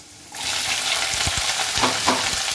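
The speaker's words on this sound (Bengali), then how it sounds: "এর মধ্যে দিয়ে দেবো গোল গোল করে রাখা পেঁয়াজ" Round-sliced onions and green chilies hit hot oil with lightly fried garlic and chilies for chicken dopiaza, starting a loud, close, continuous sizzle, with a few knocks of stirring against the pan and no speech.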